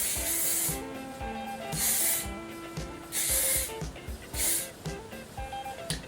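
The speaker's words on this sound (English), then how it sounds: "Then use a bit of spray." Hair spray hisses onto a hairpiece ponytail in several short, sharp bursts, close to the microphone, with soft music playing underneath.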